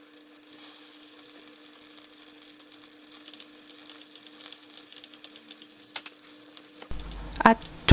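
Egg-dipped napa cabbage rolls fry in a pan over medium heat, giving a steady low sizzle with occasional stirring clicks and a sharper scrape near the end, no talking.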